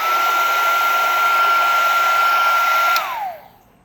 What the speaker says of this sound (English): Never hold your heat gun in one place for too long.